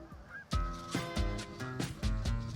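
Geese honk repeatedly in a loud, nearby series of harsh calls, about five honks in quick irregular succession, with no talk over them.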